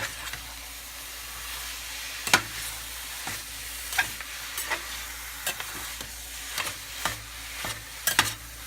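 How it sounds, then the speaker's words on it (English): Ground turkey browning in a hot pan gives a steady, close sizzle, broken by regular scraping clicks as a utensil stirs it around. "I'm going to be stirring this around for a minute while we brown the meat"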